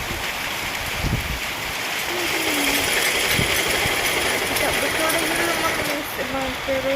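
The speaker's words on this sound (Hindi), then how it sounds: "देखिए बारिश स्टार्ट हो गई है यहाँ पर" Rain beginning to fall at a home in India, a steady broadband hiss of drops running throughout, fairly close, with a voice talking over it and a few faint knocks.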